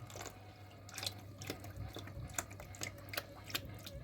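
Water trickling and dripping as it is flushed out of a combi boiler during cleaning, a faint, irregular splashing with a low steady hum beneath.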